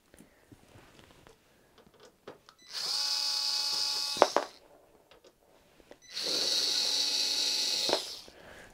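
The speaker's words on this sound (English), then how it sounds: "We'll take these four screws off on this side first." A power screwdriver removes screws from the cover of a Sony PVM monitor in two loud, sustained whirring bursts of about one and a half seconds each, with small clicks and handling taps in between.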